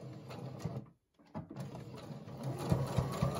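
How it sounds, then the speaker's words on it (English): A domestic sewing machine back stitches a seam on a fabric face mask, whirring steadily at close range. It briefly stops just before the one-second mark, then resumes its fast mechanical run. "I'm just gonna back stitch over that one"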